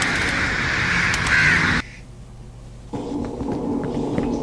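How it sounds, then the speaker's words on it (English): A flock of strange crows, or something like them, calls in a loud, dense, overlapping clamour of harsh caws. It cuts off abruptly into near silence, then a quieter, continuing murmur of calls and rustling returns. "You managed to avoid the flock of anomalous crows or whatever they were"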